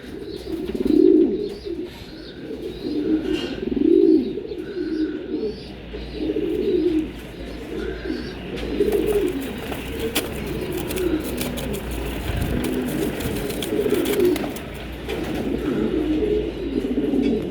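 Racing pigeons coo in repeated soft, throaty bursts close by, with faint traffic and a low background hum running underneath.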